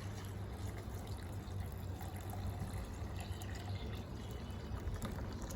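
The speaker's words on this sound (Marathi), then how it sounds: "चिंचेचं पाणी टाकलं." Tamarind water poured into a limbalon summer drink, a steady continuous liquid trickle that runs close and even throughout with no voices.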